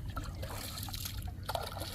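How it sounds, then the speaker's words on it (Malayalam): Muddy floodwater runs down after heavy rain, a steady close trickling and rushing flow that continues without a break, with small splashes here and there. "മല കലങ্ങി വരുന്ന വെള്ളം"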